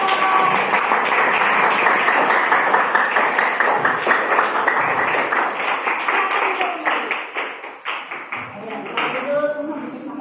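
Students in a classroom clap for a presenting group, a loud, quick patter of many hands that holds steady and then thins out and fades toward the end, with voices underneath.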